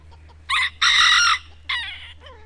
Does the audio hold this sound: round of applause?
no